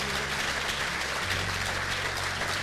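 An audience at a queen's pageant claps for twelve contestants, a steady, moderately distant wash of applause holding evenly throughout over a low background hum.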